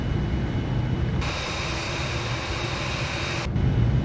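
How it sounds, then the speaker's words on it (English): A Boeing 787-9 in a flight simulator lowers its landing gear, a broad rushing roar that swells in over the steady cockpit engine drone, holds for a couple of seconds, then cuts off abruptly. "Well, we're 6 miles out, so gears coming down."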